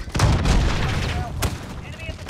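Call of Duty: Modern Warfare gunfire cracks out in sharp, loud reports, one at the start and another about a second later, over a rumbling battlefield bed with brief speech.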